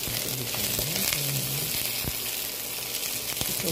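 Steady sizzling of chicken frying in hot oil, a dense crackling hiss throughout with a low hum beneath and no voices.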